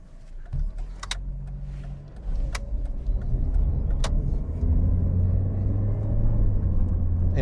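Chrysler Neon with a 3-speed automatic pulling away, its engine rumble building steadily as it gathers speed, with brief clicks and knocks over the steady drone and no talk.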